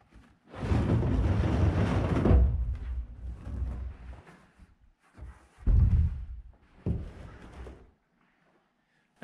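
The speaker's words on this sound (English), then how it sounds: "You could probably hear something sloshing around." Rainwater sloshes inside an empty IBC tote, a long loud surging wash followed by two shorter splashing swells that die away to near silence.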